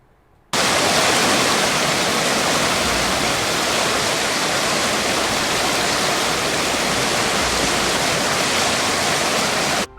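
The monsoon-swollen Krishna river in Karnataka roars over rocks in a dense, unbroken rush of water that starts abruptly and stays loud and steady.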